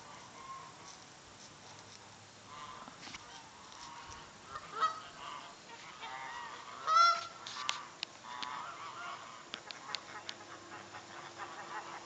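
Several geese honk and call back and forth amid steady outdoor background noise, with a louder burst of honking partway through.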